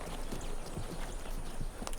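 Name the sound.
horse hooves clip-clopping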